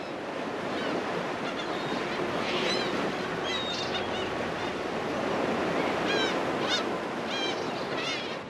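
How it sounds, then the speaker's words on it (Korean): Rough sea swells roar steadily around a conger-eel trap fishing boat off Tongyeong, a constant broad wash of surf and wind with scattered faint squeaky calls above it. "지금 파도가 되게 심한데 몇 미터 정도 될까요?"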